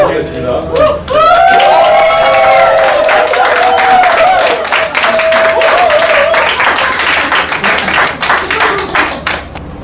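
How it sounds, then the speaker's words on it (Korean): An audience at a church praise-team seminar claps to welcome a pastor, with sustained dense applause and some cheering rising after a moment, loud and close, while a voice speaks over the opening seconds. "우리 뜨거운 마음으로 우리 박수로 모시겠습니다"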